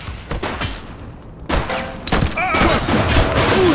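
Gunfire in the police video game The Precinct during a street fight, with sharp cracking shots and bursts mixed among chaotic crashes, shouts and sirens.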